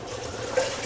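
Liquid poured into a container during cub scouts' meal preparation, a steady splashing water stream with a brief louder gurgle midway, no talking.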